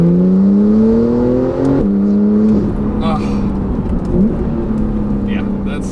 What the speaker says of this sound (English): Just ripping it second to third, hit the brakes, and then downshift back to second.